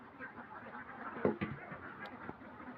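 Ducks quacking in a short, irregular burst, a few calls standing out over a low, muddy background of other birds, moderately near but fairly quiet.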